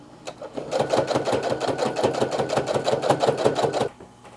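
A sewing machine runs a rapid, even stitching rhythm through a minky blanket for about four seconds, a close, steady mechanical chatter that stops abruptly.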